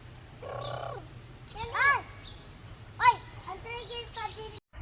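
Large birds call at Kaamulan Zoo in Malaybalay City, with several loud, arching harmonic cries spaced a second or so apart over a steady low background hum.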